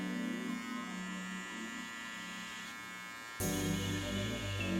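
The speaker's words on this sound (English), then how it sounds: "First starting with the clipper lever closed, and then I'm gonna gradually open it as I move up on the blend." Electric hair clippers buzzing steadily close by while cutting a low fade, a constant mains-like hum that turns louder and harsher partway through as the blade meets the hair.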